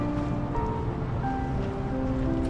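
Water of the River Thames in London laps and washes with a steady broadband rush, close and moderately loud, with some wind noise and no talking.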